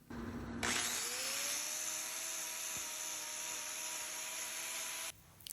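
A power grinding tool trims a cow's corkscrew claw, a steady high whine running continuously for several seconds at close range before cutting off abruptly.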